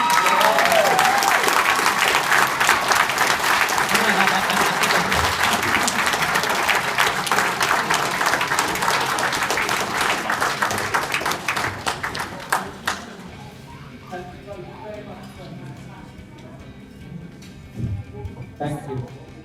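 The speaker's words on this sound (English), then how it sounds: "Can we have a round of applause?" Loud, sustained applause from a live audience fills the space for about twelve seconds, then fades into scattered claps and crowd murmur, with a brief voice breaking through near the end.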